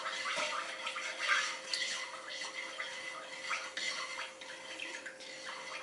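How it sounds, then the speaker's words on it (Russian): A wooden stick scrapes and swirls softly through frying oil as it heats in a pan for fried yeast-dough pirozhki. Quiet, continuous stirring with small clicks and wet shuffles, close and alone. "я его вот так вот с помощью деревянной палочки помешиваю"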